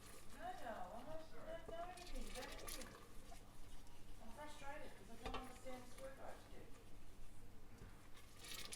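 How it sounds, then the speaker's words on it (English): Thai green curry paste being stirred in a pan, soft scraping and faint sizzling heard beneath a person talking throughout. "so you just want to stir"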